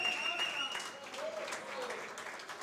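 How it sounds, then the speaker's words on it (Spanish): Audience applauding the pianist at a gathering, a steady spread of clapping with some tonal background and voices mixed in, fairly faint throughout. "Un aplauso para él"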